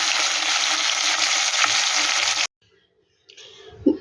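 Mourola fish frying in oil in a pan at home, a steady loud sizzle that cuts off abruptly, followed by quiet and then a few soft clinks and scrapes.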